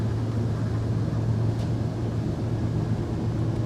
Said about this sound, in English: This has got the twin IPS 650s, which are 480 horsepower each,